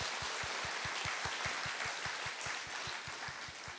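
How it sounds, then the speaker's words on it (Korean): A church congregation at a Wednesday morning service in Korea applauds together to welcome visiting church members, a steady wash of clapping filling the room with a faint low rhythmic thumping running beneath it throughout. "네, 다 함께 힘찬 박수로 환영해 주시기 바랍니다."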